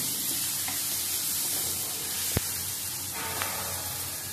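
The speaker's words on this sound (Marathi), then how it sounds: "कांदा नरम होईपर्यंत आपल्याला ती फ्राय करायची." Onion and grated coconut fry in a pan for a drumstick-leaf vegetable dish, a steady soft sizzle holding throughout with one sharp clink of a utensil midway and a fainter tap later, no voices.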